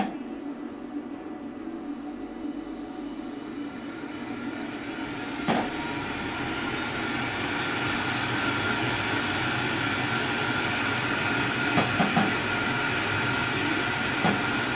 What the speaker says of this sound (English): So let's turn on our fume extractor.